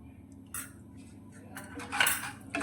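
Semolina being stirred into melted ghee in a kadhai over a low flame for moong dal barfi, heard as quiet spoon scrapes and metallic clinks against the pan.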